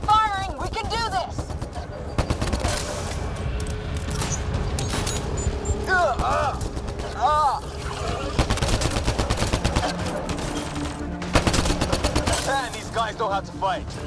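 Gunfire in a space battle: rapid automatic bursts and repeated sharp shots with booming impacts, continuous and loud, while voices shout over the din.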